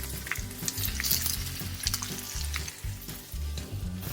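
Salmon pan-searing in its own rendered fat with a little dill, giving a loud, steady, crackling sizzle with spitting pops throughout, close up and without talk.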